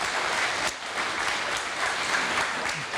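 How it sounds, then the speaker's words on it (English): An audience applauds at a World Refugee Day 2022 gathering in New Haven, a dense, steady round of clapping that rises and stays loud for the whole stretch. "A round of applause for the Irish staff."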